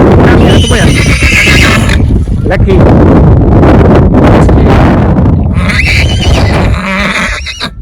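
A mare neighs loudly and close by at a gathering of horse riders, long shrill whinnies rising over hoof clatter, wind rumble and people talking.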